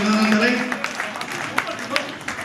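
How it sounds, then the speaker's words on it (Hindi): Applause from a gathering at an ashram kirtan welcoming guests, a steady wash of clapping with scattered sharper claps. A voice is heard early on, and the clapping carries on to the end. "तालियों के साथ जोरदार स्वागत व अभिनंदन करें"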